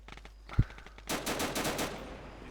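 Video game gunfire: one sharp shot, then a fast rattling automatic burst of several rounds lasting about a second, moderately loud with no talk over it.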